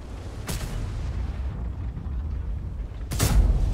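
Two heavy cannon blasts from a KV-2 tank in World of Tanks, one sharp booming shot early and a second about two and a half seconds later, each loud and close over low battle rumble.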